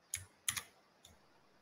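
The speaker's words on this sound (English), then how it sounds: "just start typing" A few quiet keystrokes on a computer keyboard, typed in short bursts: a single tap, a quick double tap, then one faint final press, close and soft with no talking.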